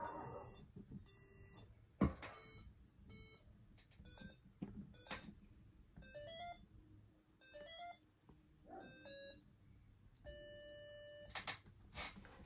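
A touch-sensitive 3D painting sounds electronic notes of differing lengths, clean bright tones in separate bursts with short gaps, close and clear with no talk.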